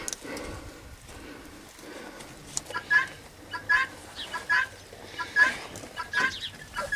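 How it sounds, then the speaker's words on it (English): Guinea fowl calling outdoors on a farm, a series of sharp repeated squawks starting about halfway through at moderate distance over faint background noise. "guinea fowl, and they are annoying most of the time"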